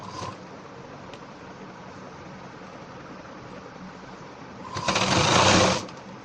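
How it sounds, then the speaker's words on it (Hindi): A sewing machine stitches the hem of a ladies' trouser leg, a brief loud whirring burst near the end after a quiet, steady room hum. "मोरी में हम सिलाई लगा रहे हैं"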